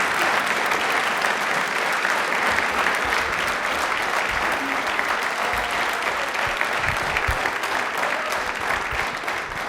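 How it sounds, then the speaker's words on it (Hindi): Sustained studio audience applause on a Rajasthan television quiz show, a steady dense wash of clapping that fills the whole stretch at even loudness with no talk over it. "तालियां प्लीज एक बार जोरदार।"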